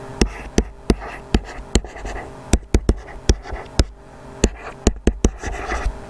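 Pen strokes drawing a ray of an angle on paper, a run of sharp, close tapping and scratching marks in an irregular rhythm, near and fairly loud with no talking.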